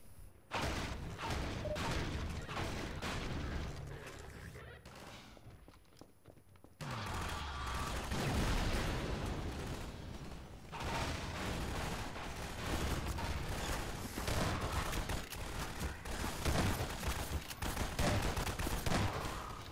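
Sustained automatic SMG fire from a Combine Elite soldier in Half-Life 2, loud, rapid bursts with a short pause near the middle, then dense gunfire returning and continuing to the end without any talk.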